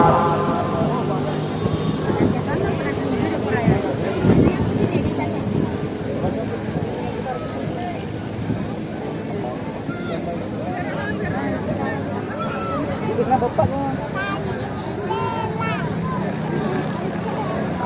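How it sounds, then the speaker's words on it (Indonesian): A Yamaha boat engine drones during a traditional boat race in Bulukumba, a steady motor sound under loud crowd babble and an excited commentator talking throughout. "Perlihatkan kualitas mesin Yamaha"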